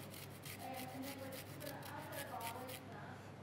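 A mini grater zests a lemon, giving faint, quick rasping strokes in a steady rhythm, with soft talking underneath.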